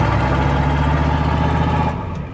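Ford F-250 truck with a 7.3 IDI diesel engine revs steadily and loudly, droning continuously as its wheels spin in snow, then the sound drops slightly near the end.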